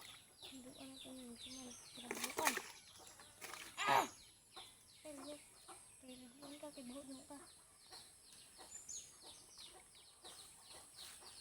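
Hens clucking after laying eggs, with scattered short clucks and a couple of louder squawks near the start. The birds are close over a quiet farmyard background and a soft voice is faintly present.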